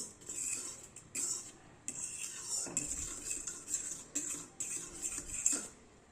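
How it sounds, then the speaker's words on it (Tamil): Ghee stirred in a pan to keep it from sticking: a metal spoon scrapes and clinks against the pan in short bursts with brief pauses, close and fairly quiet. "ஒரு 5 நிமிஷம் நம்ம இந்த மாதிரி கலக்கிட்டே இருக்கணும், இல்லாட்டி அடி பிடிச்சிடும்"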